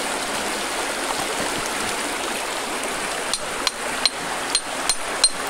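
Steady rushing water fills the background while a finishing hammer strikes rock layers with sharp metallic taps, about six in the final seconds, spaced irregularly, at a fossil site in Courtenay, British Columbia.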